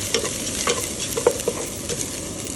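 Chicken being stir-fried in a pan, with steady close sizzling and a few sharper scrapes and clinks of a utensil against the pan, no voices.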